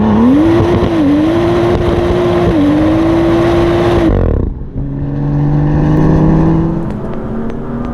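BMW M2 exhaust with a steady droning engine note that drops off abruptly, then settles into a lower rumbling burble, loud and close with no talk.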